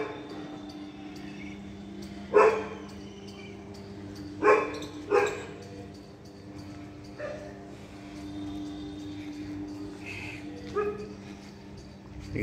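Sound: dogs barking in the street

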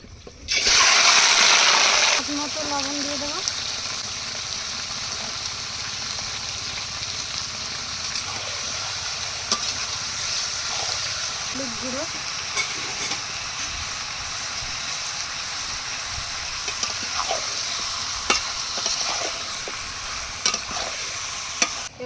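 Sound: chicken pieces frying in oil

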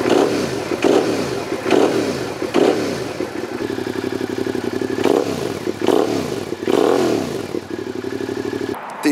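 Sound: motorcycle twin-cylinder engine exhaust rumble

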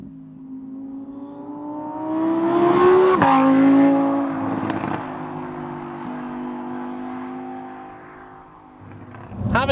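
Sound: Lamborghini Huracan EVO RWD engine revving while driving

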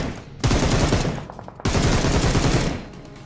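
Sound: gunfire in the video game Peace Elite

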